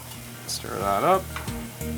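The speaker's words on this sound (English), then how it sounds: "Stir that up." Dressing being stirred into a grain salad with mushrooms in a restaurant kitchen, heard as brief wet stirring under a loud, close background hiss, while a voice speaks briefly in the middle.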